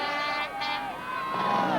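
Swedish motocross fans cheering as the race winner crosses the finish line, a dense crowd roar with whistles and shouts that stays loud and steady throughout.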